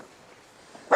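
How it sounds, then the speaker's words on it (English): A single loud dog bark bursts out at the very end after near silence, close by inside a family home. "You'll have to excuse the dogs barking."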